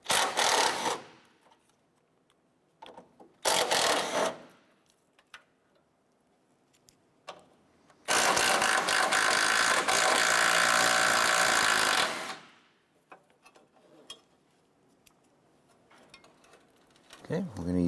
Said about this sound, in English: Using a 13mm socket, we're going to go ahead and remove the bolts securing this side bracket on the side.